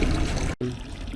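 Water pours steadily from a Roman drinking fountain on a city street, a continuous splashing trickle heard up close with one brief dropout partway through.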